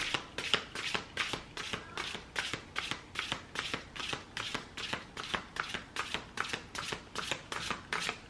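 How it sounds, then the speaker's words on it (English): Rapid riffle shuffles of a deck of oracle cards, repeating in quick crisp bursts about twice a second, close and steady with no talking. "I'm gonna do 2 more shuffles."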